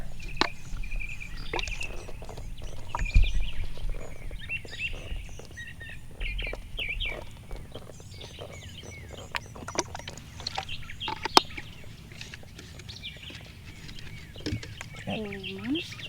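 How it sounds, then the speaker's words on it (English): An outdoor bird chorus chirps and tweets in the background on a summer day, scattered calls under a low rumble and occasional nearby clicks and knocks. "Beautiful bird chorus in the background."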